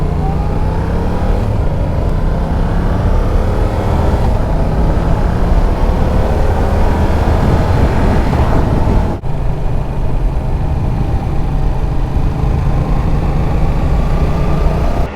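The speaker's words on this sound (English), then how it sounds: "I hope you guys enjoyed some of that exhaust sound" A Triumph Daytona 660 sport bike's exhaust, a steady loud engine drone with rising revs through the gears, a sharp break near the middle, then continued hard pulling, close and without talk.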